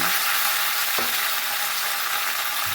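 Cut flat beans fry in mustard oil in an iron wok, giving a dense, constant sizzle with one brief clink about a second in. No voices.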